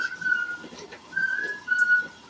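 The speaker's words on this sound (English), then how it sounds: "pardon my son, he likes to make high pitched noises all day." Faint, thin high-pitched squeaks come in a few short bursts, sung and held by a voice in a quiet room.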